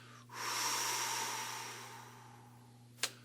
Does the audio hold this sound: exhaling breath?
yes